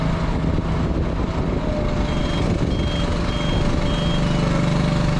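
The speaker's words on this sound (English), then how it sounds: "and the alarms are going haywire" Steady electronic alarm beeping from a 60-foot aerial lift platform used by tree climbers, continuous and fairly loud over a constant engine hum, with no talking.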